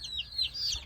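Chickens clucking softly in a backyard flock with hens, a few short, thin calls in quick succession, faint and close, with no talking.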